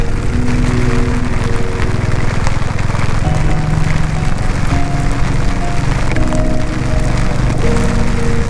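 Heavy monsoon rain pours steadily around a Royal Enfield Meteor 350 motorcycle on a ride through Kudremukh National Park, a dense continuous wash with engine rumble beneath and a rider speaking at times.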